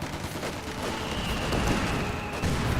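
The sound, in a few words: infantry rifle fire in video game Company of Heroes 2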